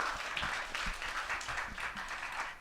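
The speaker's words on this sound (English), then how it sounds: "Can we have a round of applause for all our presenters," A conference audience gives a short burst of clapping for panel presenters at a session on legal risk and corporate accountability, a dense patter of hands without speech.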